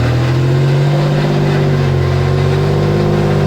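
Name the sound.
Toyota truck supercharged 3.4 V6 engine revving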